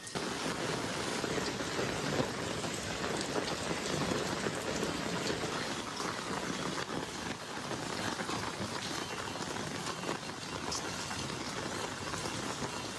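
Steady rain pours down continuously, a dense hiss of drops on surfaces with no voices, fairly close and even throughout.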